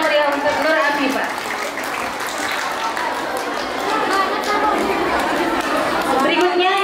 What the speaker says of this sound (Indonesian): Beri tepuk tangan yang meriah untuk Nur Afifah